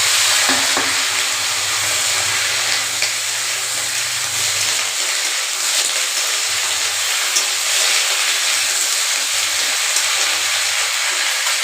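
Potatoes with green chili, raw plantain and beans frying in a pan, a steady loud sizzle with stirring scrapes throughout, no talk.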